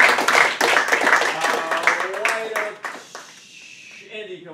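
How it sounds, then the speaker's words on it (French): Classroom applause for a student, a short burst of clapping from several people, loudest at the start and fading out over a few seconds, with a teacher's voice talking over and after it. "Give him a hand."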